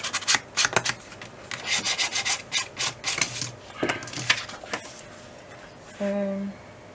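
A file rasps across craft parts of a handmade Harry Potter album in a quick run of short, close rubbing strokes, then falls quiet before a brief steady tone near the end.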